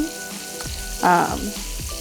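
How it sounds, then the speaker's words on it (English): Shrimp for Cajun shrimp pasta sizzling in a pan, a brief close burst of hissing as pieces are turned over, with low clatter around it and no clear speech. "we're gonna go ahead and flip our shrimp now"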